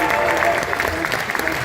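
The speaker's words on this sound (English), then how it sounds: "Everybody give him a big round of applause." Applause from an audience after a David Blaine magic performance, steady dense clapping throughout at moderate volume with a crowd murmur underneath.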